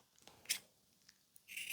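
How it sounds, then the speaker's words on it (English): Scissors snip through scrap material for a grape costume, a few quiet, crisp cuts spaced apart in an otherwise hushed room. "We're just gonna cut out a little"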